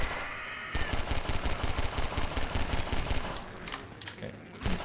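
Rapid automatic gunfire from a weapon in Garry's Mod, a fast string of sharp shots beginning after a brief pause and continuing in bursts, close and loud, with a short lull and a final burst near the end.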